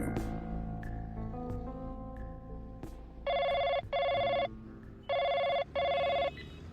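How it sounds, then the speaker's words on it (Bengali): A telephone bell rings in two double bursts inside a suspense thriller drama, loud and close after a softer musical passage. "রেস্টুরেন্ট থেকে বেরিয়ে সৌরনীল রাঘববাবুকে ফোন করল"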